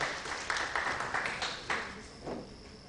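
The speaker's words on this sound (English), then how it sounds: "A big round of applause to the organizers as we get settled down." Conference audience at an education summit giving applause for the organizers, a moderate, fairly distant clapping with a few sharper individual claps, steady across the short stretch.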